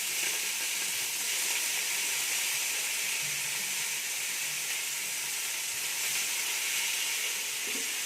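Mint and coriander leaves sautéing in a hot pan for mushroom biryani, giving a steady, close sizzle and frying hiss that runs unbroken at an even level.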